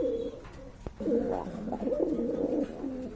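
A female fancy pigeon coos at a loft, soft rolling coos repeating in a steady cluster of phrases, close and clear with no talk over them.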